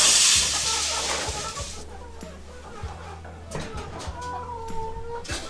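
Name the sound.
chickens clucking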